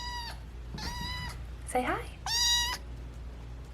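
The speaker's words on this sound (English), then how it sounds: "if you hear any weird sounds in the background, it's because I'm babysitting a cat right now" A cat being babysat meows three times with long, tonal cries, faint and close in a quiet room, while a person speaks briefly between them.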